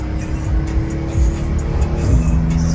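A new Porsche 992 Turbo drives by with a loud, steady engine drone and tire noise, close and continuous with a slight pitch shift toward the end.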